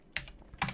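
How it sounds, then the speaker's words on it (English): Number typed on a computer keyboard, heard as two crisp close key clicks spaced about half a second apart, quiet and alone. "Then you just type in the number, for example 1628"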